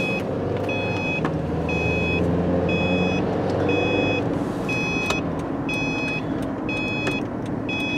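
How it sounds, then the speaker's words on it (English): A vehicle's electronic warning beeper sounds in a steady series of short, evenly spaced high beeps over a continuous low engine and road rumble, with no one talking. "You're gonna have to deal with a beeper"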